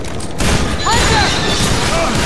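Gunfire and booms in the video game Left 4 Dead 2 fill a co-op match: loud, dense bursts of shots with thuds and whooshing effects, continuous throughout.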